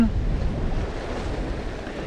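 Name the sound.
wind on the shore while lure fishing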